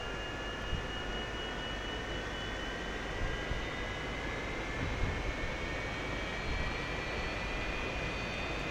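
An F-86F Sabre jet engine spools up during a cold start, a steady loud roar with rising whining tones climbing gradually in pitch, continuous and close with no talk.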